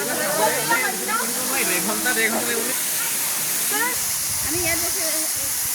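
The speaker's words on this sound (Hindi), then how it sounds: "देखिए आप, कितना सुंदर, यानी प्राकृतिक रूप से झरना है" A natural waterfall at Cherrapunji in Meghalaya gives a steady, dense rush of falling water throughout, with someone talking over it for much of the time.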